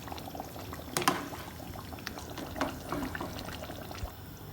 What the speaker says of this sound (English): We'll stop here so we can add a bit more water to mix that.